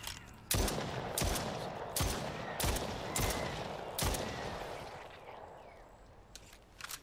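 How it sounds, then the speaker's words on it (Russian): Gunfire in the horror game Stray Souls: about six sharp, loud shots spaced roughly half a second apart, each with a short echoing tail, followed by quieter ambience and a couple of fainter cracks near the end. "Я слышала выстрелы."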